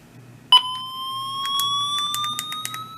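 A Midland HH50 weather radio sets off its alarm siren, a sudden steady electronic tone that rises slowly in pitch, with faint beeps and clicks beneath it.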